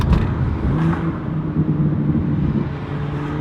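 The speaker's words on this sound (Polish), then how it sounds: "Tak naprawdę chodzi o możliwość sterowania tym pięknym wydechem" A BMW M2's exhaust rumbles steadily from inside the cabin, a low droning engine note that holds through the whole stretch with slight swells, and no voices over it.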